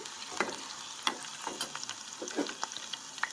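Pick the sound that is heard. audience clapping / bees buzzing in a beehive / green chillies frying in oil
green chillies frying in oil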